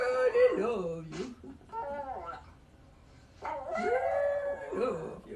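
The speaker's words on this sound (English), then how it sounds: "We hear the dog, and we hear it too" A dog howls in drawn-out, wavering cries, close and fairly loud, in two spells separated by a short quiet gap, with voices talking around it.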